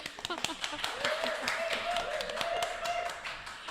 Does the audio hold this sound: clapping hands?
yes